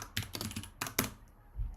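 Quiet, close computer keyboard typing in short irregular bursts of clicks and key taps, with brief pauses between strokes.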